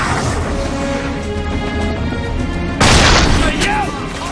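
Loud video game battle audio from Army of Two: The 40th Day, a dense continuous barrage of gunfire with booming explosions, swelling into a heavier blast partway through.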